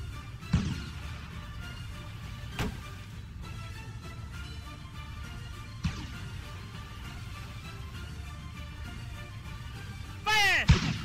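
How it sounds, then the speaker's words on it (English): Heavy sailing-ship cannon booms in a VR video game fire at irregular intervals over a steady background rumble, with a rising, whining burst near the end. "Load the cannons! Fire!"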